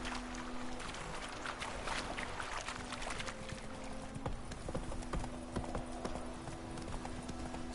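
Hoofbeats of Roach, Geralt's horse in The Witcher 3, galloping in a steady clip-clop rhythm over a constant game ambience, with no voices.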